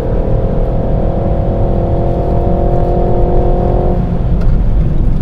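Renault Megane RS engine revving while driving on an ordinary road, a loud steady drone with sustained tonal harmonics that drop away near the end, no talk.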